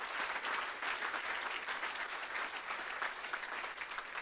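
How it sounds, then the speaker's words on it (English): An audience at a veterans' recognition event applauds steadily for several seconds, a continuous, even wash of clapping heard from within the room with no one speaking. "Please, a round of applause for those folks that are doing great research at Harvard for the veterans."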